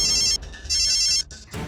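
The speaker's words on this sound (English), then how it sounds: "It's ringing." A telephone rings loudly in two electronic bursts separated by a short pause, close by, with no talking.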